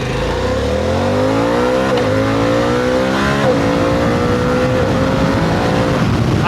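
A Harley-Davidson Pan America ST motorcycle pulls away from a rolling start in first gear. The engine is loud and close and rises steadily in pitch as it accelerates through the gears, with no voices.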